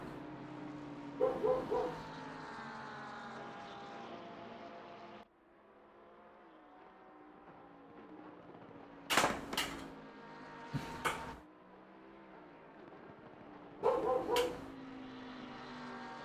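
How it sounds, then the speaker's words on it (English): A pet dog, let outside, barks at squirrels in a few short, sharp bursts spread through the stretch, distant and in the background beneath steady engine and tyre noise from a sim race. "Sorry if you can hear my dog barking in the background."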